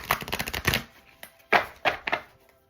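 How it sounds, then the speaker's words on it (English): A deck of tea leaf reading cards is shuffled by hand in several quick riffling bursts with short pauses between them, close and crisp. "I love how this deck shuffles"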